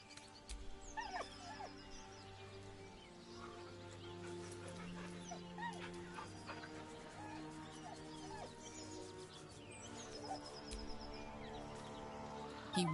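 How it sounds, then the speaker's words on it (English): In Baldur's Gate 3, a dog whines and whimpers beside a corpse. The soft, plaintive whimpers come and go over a quiet, sustained tonal backdrop that runs throughout. "He whines, but remains rooted by the corpse's side."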